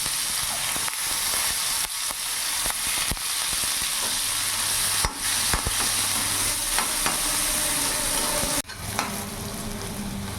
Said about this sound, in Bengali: সাথে এখানে পেঁয়াজ কুচি দিয়ে দিলাম।